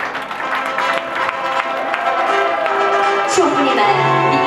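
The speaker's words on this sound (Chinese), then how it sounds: "掌声祝贺" Wedding guests applaud the couple as they enter the ceremony hall, a steady, dense wash of clapping mixed with tonal music that holds at an even level throughout.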